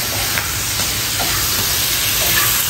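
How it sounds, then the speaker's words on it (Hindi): Masala for kaleji cooking on a tawa over low heat, a steady close sizzle and hiss that holds evenly throughout with no talking. "इस मसाले को हल्की सी आँच में हम पकाएंगे"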